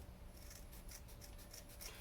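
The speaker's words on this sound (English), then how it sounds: "Use cheap scissors for cutting this stuff" Cheap scissors snip through abrasive pad material used to polish brake line shafts, giving a steady series of close, dry crisp cuts and rasping rubs over a constant low background hum, with no talking.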